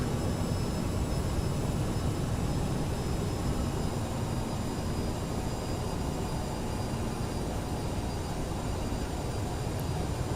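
Steady broadband roar of Aerosoft CRJ jet engines holding on the runway in Microsoft Flight Simulator, a constant loud hum with faint high whine tones and no talking.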